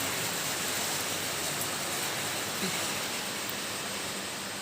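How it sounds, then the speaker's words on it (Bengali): Steady rain falls outdoors in Nepal near Siliguri, giving a constant even hiss with no pauses and no voices, close and moderately loud throughout. "এই যে বৃষ্টি এখন অলরেডি চলে এসছে"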